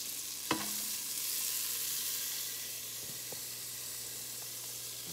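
Fresh ginger dropped into a hot non-stick pan for arroz caldo, giving a sharp hit then a steady, close sizzle and frying hiss with faint stirring clinks, no talk.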